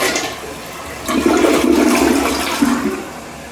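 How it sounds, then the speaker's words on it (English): A newly installed toilet gives its second test flush, a close rushing swirl of water that builds after a second and drains steadily with no talking. "Tank is full. Second test flush."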